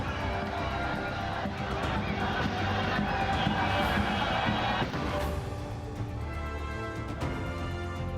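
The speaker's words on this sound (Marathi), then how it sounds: "फटाके फोडत ढोल ताशाच्या गजरात" A festive crowd cheers and shouts while celebrating India's T20 World Cup victory with firecrackers and drums, a sustained, busy wash of many voices and commotion, with a voice speaking over it.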